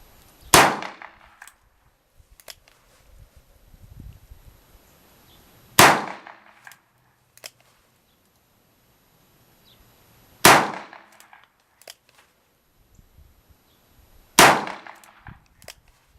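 A Ruger GP100 revolver fires .38 Special rounds at steel targets on a range: four loud, sharp reports spaced several seconds apart, each followed by a brief metallic ring, with faint clanks in the quiet gaps.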